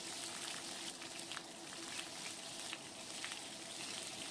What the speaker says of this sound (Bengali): পটলগুলো একটু ভালো করেই ভাজতে হয়